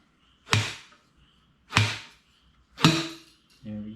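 A motorcycle fork oil seal on a Honda CRF150R is tapped into the fork tube; three distinct, fairly sharp knocks spaced about a second apart, followed by a softer fourth sound, in a quiet room.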